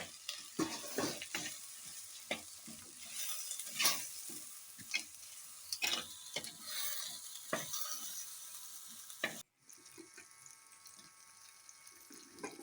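Tomatoes sizzle and sputter in a pan for mutton curry, with intermittent scraping stirs and clinks, fairly quiet and close, briefly cutting out near the end.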